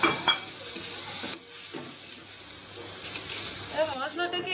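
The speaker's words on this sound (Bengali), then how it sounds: "এবার মশলাটাকে একটু কষিয়ে নেব" Spice paste of turmeric, cumin, coriander and chilli powder with sugar and salt stir-fried in a pan, giving a steady close sizzle with scraping stirs and a few clinks, under faint talk.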